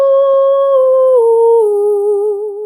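A voice imitates an owl hoot with a long, smooth, sustained high tone that dips slightly in pitch partway through, alone and close.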